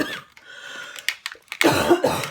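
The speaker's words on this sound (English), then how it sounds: "I'm going to cough, excuse me" A person coughs at close range during an indoor Stampin' Up! Christmas card-stamping session, a short burst of harsh coughs with breathy sounds around them.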